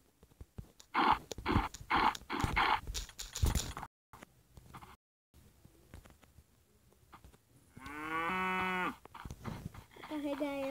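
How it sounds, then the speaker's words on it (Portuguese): A cow in the survival video game Lostminer lets out a drawn-out moo near the end, following several loud rhythmic thumps and quieter gaps of game noise. "Tem outra vaca aqui."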